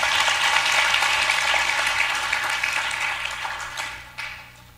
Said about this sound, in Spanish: denle aplauso al Señor si se lo va a dar